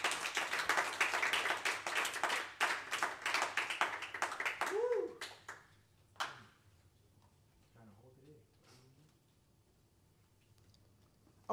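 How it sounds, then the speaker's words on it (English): A church congregation at a Thursday evening service claps hands together in a dense, steady burst that thins out and stops after about five seconds, leaving a quiet room with faint talk. "Can you clap your hands to the Lord?"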